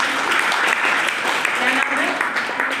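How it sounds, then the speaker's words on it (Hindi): Children clapping together at an anti-drug awareness camp, a loud uneven burst of many small hands lasting a few seconds, with voices talking over it. "ताली बजाओ।"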